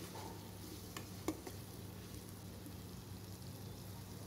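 Masala of onions and tomatoes fries in a pan with a faint, steady sizzle, and a few soft stirring clicks come through near the start.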